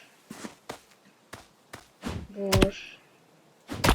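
Several separate thunking chopping strikes on wood in the video game Muck, spaced irregularly, with a brighter ringing impact near the middle.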